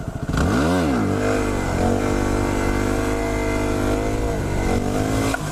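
A supermoto motorcycle engine revs hard and close during a wheelie. The pitch sweeps up and falls back, then settles into a loud, steady drone, with no talking over it.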